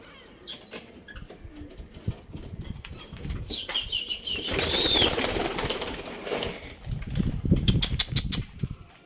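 A flock of pigeons takes off and flies close by with a rising flurry of wing flaps, loudest toward the middle and again near the end, along with rustling and a brief whistle-like tone.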